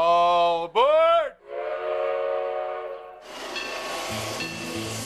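A narrow-gauge steam train on the Silverton line in southwestern Colorado sounds its whistle in a loud drawn blast with a brief dip, followed by a steady hiss of steam and rumbling railcar noise nearby.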